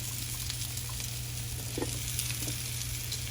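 Chopped onion sizzling in a hot pan for Spam fried rice, a loud, steady frying hiss with light crackle and occasional soft stirring taps, close up with no talking.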